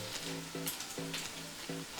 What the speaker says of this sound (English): let it just fry for a while before I can continue cooking